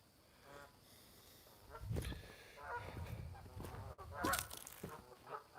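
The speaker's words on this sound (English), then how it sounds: "Oh, Canada geese might be taking off here." Canada geese honk in a loose flock before taking off, a few loud nasal calls rising over a quiet outdoor background, with someone speaking in between.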